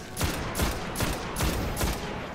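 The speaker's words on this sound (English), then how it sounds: "You can see primary weapon is basically like a rifle type." Rifle-type primary weapon fire in the Destiny video game on Xbox One, with about five loud bursts of shots spaced roughly half a second apart, each ringing out over a steady bed of game noise.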